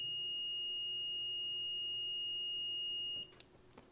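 A multimeter set to continuity mode gives a steady, high, pure beep for about three seconds. It then cuts off, leaving a few faint clicks against a quiet background hum.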